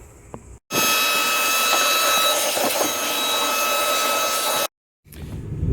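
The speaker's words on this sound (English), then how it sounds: "it would be a good idea to vacuum this out thoroughly" A loud, steady vacuum cleaner roars for about four seconds while cleaning out part of a 2007–2008 Hyundai Santa Fe's fuel system, then cuts off abruptly, with brief rustling before and after.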